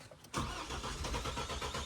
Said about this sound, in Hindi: फर्स्ट सेल्फ में स्टार्ट नहीं हुई भाई